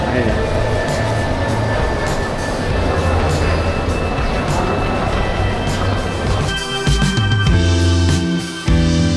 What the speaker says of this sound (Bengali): 3 নম্বর প্ল্যাটফর্মে আমাদের ট্রেন।